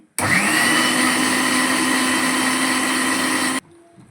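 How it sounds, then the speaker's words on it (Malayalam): A mixer grinder grinds a tomato mixture in a home kitchen, a loud steady whine running for over three seconds and then cutting off sharply, alone without talk. "അപ്പോൾ ഗൈസ് അമ്മ അരക്കാനായിട്ട് പോണെയാണ്"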